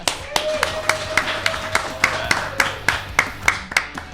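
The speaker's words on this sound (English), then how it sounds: "Give yourselves a round of applause." Evenly spaced hand claps in a slow, steady rhythm, about three per second, loud and close, over a faint background hum.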